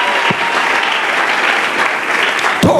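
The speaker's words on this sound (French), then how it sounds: "Acclamons le Seigneur trop fort." A church congregation at a Sunday service applauds loudly and continuously, dense clapping filling the space from start to finish with a couple of low thumps.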